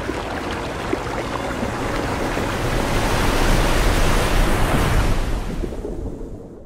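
A waterfall rushes in the Call of Duty Ghosts video game, a loud, steady roar of churning water that swells slightly and then begins to fade, with no voices.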